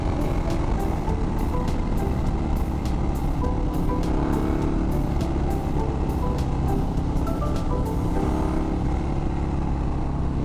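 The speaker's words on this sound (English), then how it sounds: "So we're getting out on the Sportster for a little rip around the town" A Harley-Davidson Sportster motorcycle rides around town with a constant, loud engine drone and wind rush the whole way through. Faint ticking sounds come through over the top.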